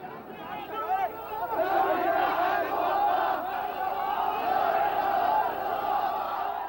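Crowd of Iraqis protesting against American troops in Fallujah, a dense roar of many shouting voices that swells after the first second and stays loud and continuous, with chanting and cries blending into one mass.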